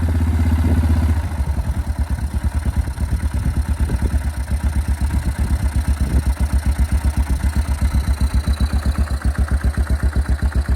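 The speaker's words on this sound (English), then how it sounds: "It's running with the choke out a little bit." A 2004 Yamaha Kodiak 400 ATV fitted with an aftermarket TANG carburetor idles with the choke partly out, its engine thumping in a fast, even, loud pulse close by after a brief rougher burst at the start.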